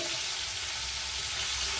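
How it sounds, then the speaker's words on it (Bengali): Pieces of snakehead fish fry in hot oil, giving a constant, bright sizzle that stays even and close throughout. "মাছটা ভাজার জন্য ছেড়ে দিলাম"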